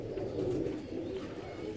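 Teddy breed pigeon cooing softly nearby, a low, gentle burbling call that swells and fades over a brief moment, with no voices over it.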